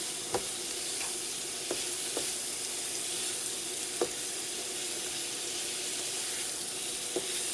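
Sweet Italian sausage sizzles in a skillet on a New Wave induction stovetop set to 275. A soft, even frying hiss runs throughout, punctuated by occasional light utensil clicks, with no voices.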